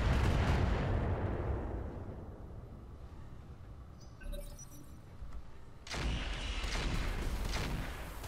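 Heavy weapon fire in the mech combat game Roguetech: a loud, deep booming blast rolls off into a long rumble, and a second powerful blast follows a few seconds later.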